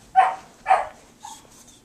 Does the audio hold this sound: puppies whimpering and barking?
yes